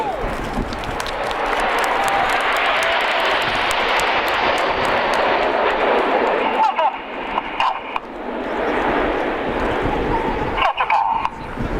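Red Arrows jets flying an air display formation at an outdoor festival, a loud, sustained broadband roar that swells and dips as the aircraft pass, under a commentator's voice over a public address system.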